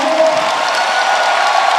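Basketball arena crowd in Taiwan giving warm applause and cheers as a player exits the court, a steady wash of clapping with voices talking over it.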